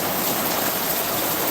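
Steady rain patters on a big umbrella held by someone sheltering in a garden, a dense even hiss with no voices.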